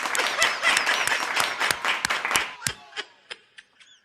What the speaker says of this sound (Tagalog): Bakit ka pumapalakpak?